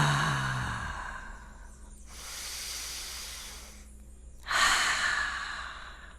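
Deep slow breathing during a guided meditation, close and audible, with a long airy inhale followed by an exhale and the start of another breath, with no speech.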